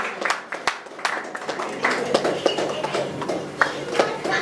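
An audience at a world record award event claps to welcome an actor to the stage, a steady patter of many hands that swells and continues at close range, with a voice speaking over it.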